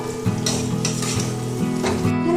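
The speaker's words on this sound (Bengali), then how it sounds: "আলুটাকে একটু হলুদের সাথে মিশিয়ে নেবো" Potatoes fry in hot oil with ground turmeric as they are stirred in a pan, giving a steady close sizzle with light scraping strokes of the spoon throughout.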